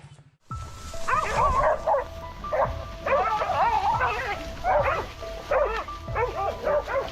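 Hunting dog barking during a wild boar hunt in tall reeds, a run of repeated sharp barks and yelps in uneven bursts, close and loud, lasting several seconds.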